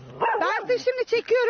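Puppies dumped in a sack in Kırklareli bark and yip close by in a quick, uneven run of high, wavering cries, with someone speaking over them.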